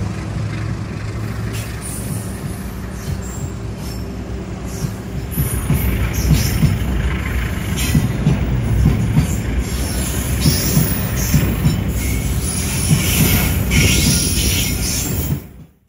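Riding inside the Kamandaka economy class train on the Semarang route, a steady loud low rumble of wheels and carriage that grows heavier and rhythmic midway, then cuts off abruptly.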